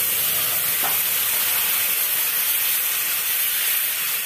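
Spices fry in hot oil for a cauliflower, potato and bori curry, giving a loud, dense and unbroken hiss of sizzling from close by.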